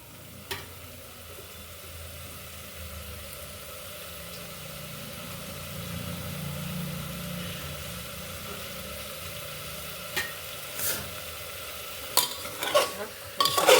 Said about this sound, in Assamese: এতিয়া মই 2 মিনিটমান এইখিনি ভাজি ল'ম।